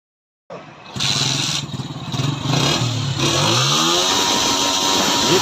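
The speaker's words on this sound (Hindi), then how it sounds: "2022 मॉडल होंडा 125 बाइक का है, जिसमें मसला इस तरह से है कि बाइक बहुत ज़्यादा मिसिंग कर रहा है" A nearly new 2022 Honda 125 motorcycle with about 700 km on it and a misfiring fault, its engine starting, then idling and revving loudly and steadily up close with an uneven, sputtering running note.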